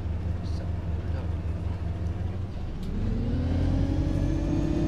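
Simulated Alexander Dennis E200 MMC single-deck bus in OMSI 2 driving toward a stand, a steady low engine drone that builds and rises in pitch after a few seconds as it pulls away, with faint talk over it.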